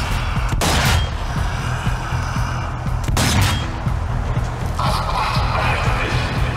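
In the video game Zombie Army 4, a turret gunner fires loud bursts of gunfire that boom and crack over rumbling battle noise. The heaviest volleys come near the start and again a few seconds later.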